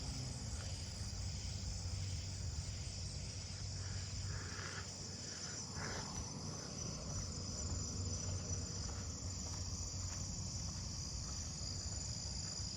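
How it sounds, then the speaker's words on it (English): Fall field crickets chirp in a steady, continuous outdoor chorus, faint and far, with a constant high trill running throughout and no voices. "Oh, I'm closer to the fall field crickets."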